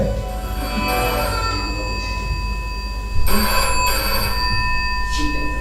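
Telephone ringing late at night, a repeated electronic ring in bursts, fairly loud and close over a low steady hum.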